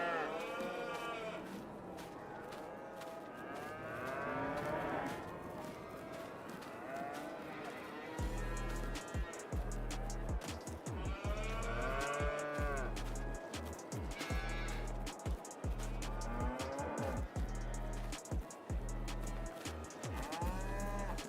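Cattle herd on a farm, about 600 cows, mooing in many overlapping calls near and far, with a repeating low rumble of machinery running beneath the latter half.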